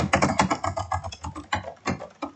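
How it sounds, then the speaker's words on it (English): Typing on a computer keyboard: quick irregular clacks of keys in close succession, near and fairly loud, with slight pauses between bursts and no voices. "the typing of a keyboard"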